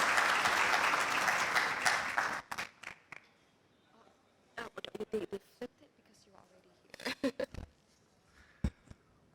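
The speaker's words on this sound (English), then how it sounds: "Please give him the biggest round of applause." An audience applauds Federal Minister for Education Shafqat Mahmood with dense, loud clapping for about two seconds. It then breaks off into a few scattered handclaps and brief bursts of talk in a quiet hall.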